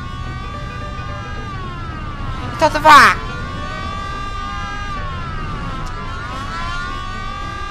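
Police sirens from the Mafia video game wail with rising and falling harmonic sweeps throughout a pursuit, someone talking over them and a brief louder crash-like burst midway.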